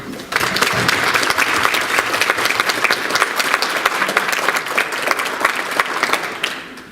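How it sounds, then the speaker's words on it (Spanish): Seminar audience applauding a doctor at a criminal procedure code event, loud and dense clapping from many people that starts abruptly and holds steady before easing off at the end. "Yo solamente quiero merecer en este momento ustedes un aplauso para el doctor Segarra, Oreste Segarra, por favor"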